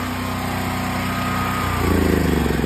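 A DuraMax 12000 watt dual fuel electric-start generator runs with a steady buzzing engine drone nearby, its pitch and loudness rising slightly near the end.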